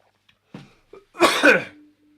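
A few quick throaty coughs, one soft and isolated, then a louder burst of two harsh coughs close together, followed by a faint lingering hum.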